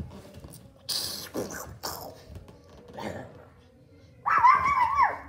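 A dog gives a few short barks and yips spaced across several seconds, followed by a higher drawn-out whimpering whine, close by and fairly quiet.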